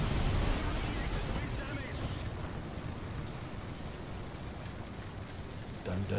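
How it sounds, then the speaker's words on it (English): Artillery fire in War Thunder lands as a heavy, booming explosion at the start, then a long rumbling wash of debris and battlefield noise that fades slowly before another low impact at the end. "Here's some artillery."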